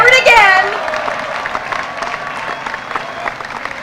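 A crowd cheers and applauds at a high school ribbon cutting: shrill whoops and shouts burst up first, then settle into sustained clapping and crowd noise.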